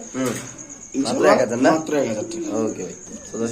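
White Spanish pigeons at a pigeon market coo in soft, repeated low murmurs nearby, with crickets or insects chirping and people talking over them.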